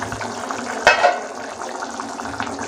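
A pot of green field bean and mutton curry gets stirred: one brief louder clatter and scrape of a spoon against the pot, then a low steady simmering bubble with faint stirring sounds.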